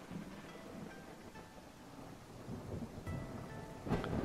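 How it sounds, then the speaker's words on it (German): Rain and rolling thunder in the Pharmacy Simulator video game: a steady, moderately faint wash of rainfall with low rumbling that swells slightly toward the end, capped by a brief louder crack near the close. "Es regnet immer noch."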